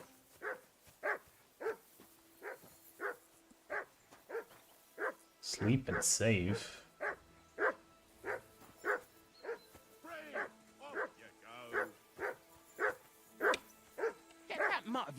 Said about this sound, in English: Get that mutt of yours to stop barking, will you?